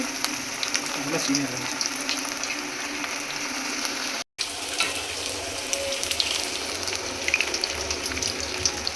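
Kebab pieces fry in a pan over a flame, a steady loud sizzle and crackle with bubbling spits, a brief cut of silence midway, then frying resumes with scattered pops.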